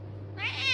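A single rising meow from a cat, close and fairly loud, with a faint steady hum underneath.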